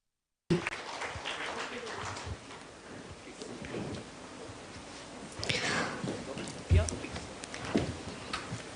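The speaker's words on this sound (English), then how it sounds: "Can we have a huge round of applause, ladies and gentlemen?" Audience applause at an HR conference, a broad wash of clapping mixed with crowd murmur that rises and swells toward the end, with a few louder bursts and no clear speech.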